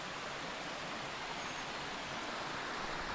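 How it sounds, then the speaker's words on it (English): A creek runs through the woods along an ATV trail, giving a steady, even rushing wash of water with no voices. "Creek looks pretty good today."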